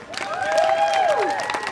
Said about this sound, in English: So give a big round of applause for Julia, okay?